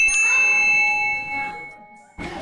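On a TV game show, a single bright buzzer ding rings out with a sustained metallic tone that slowly fades, followed by a brief burst of crowd or voice noise.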